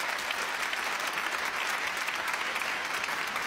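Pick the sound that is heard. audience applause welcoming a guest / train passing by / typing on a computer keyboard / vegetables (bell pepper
audience applause welcoming a guest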